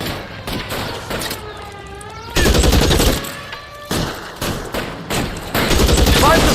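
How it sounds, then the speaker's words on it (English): Gunfire in the video game L.A. Noire: loud, sustained bursts of rapid shots from several guns, cutting in and out in heavy volleys, with shouted voices over the shooting. "Suppressing fire!"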